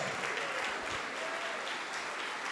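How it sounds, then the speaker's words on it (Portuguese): A church congregation claps steadily throughout a worship service, a dense, continuous wash of applause filling the room from start to finish with no clear voices standing out. "venham aqui para frente e vamos aplaudir mais ao nome de Jesus."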